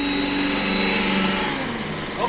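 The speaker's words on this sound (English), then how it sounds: "Driving the fire truck. Full throttle." A classic 4x4 fire truck engine runs at full throttle in third gear, a steady loud drone with harmonic whine that holds throughout and dips slightly near the end.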